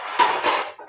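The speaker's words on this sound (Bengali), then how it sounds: "আর এই যে হচ্ছে আলু দিয়ে দিলাম।" Potatoes drop into a pot of fish curry with a single metallic clunk and brief clatter, followed by a softer scraping knock against the pot, all close and alone.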